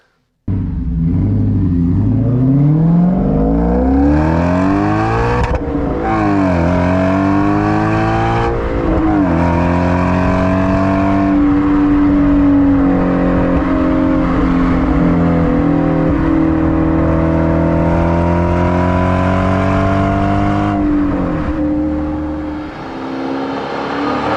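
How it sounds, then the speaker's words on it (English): A V8-powered Audi S5 accelerates hard through several gears on the road, each rev climbing steadily then dropping sharply at the shift, a loud, continuous engine roar heard from inside the car. "The Audi V8 has a harder edge to it once you start to rev it."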